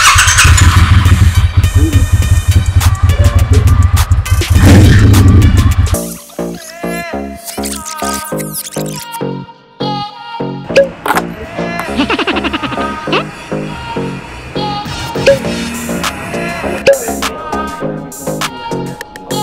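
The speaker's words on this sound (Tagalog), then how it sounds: "Triumph Traxxon. Copy racer siya." A Triumph Thruxton 1200cc cafe racer motorcycle engine, loud and close, first a steady rumble, then revving and sputtering bursts with brief squeals.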